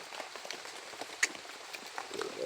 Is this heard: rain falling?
yes